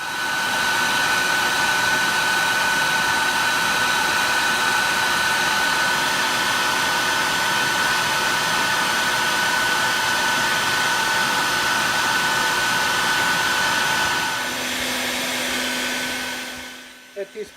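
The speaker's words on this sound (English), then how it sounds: "so I'm taking advantage of that and vacuuming them once in a while" A vacuum pulls honey bees from a cramped hive cutout with a loud, constant rushing whine that persists throughout, its pitch shifting slightly near the end before cutting off.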